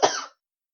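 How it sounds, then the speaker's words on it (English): A single short cough as a theatre sound effect, close and clear, with nothing else heard. "And that's a cough."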